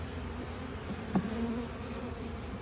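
Honeybees in a hive box buzzing as a soft steady drone, with one bee's louder buzz briefly passing close by midway.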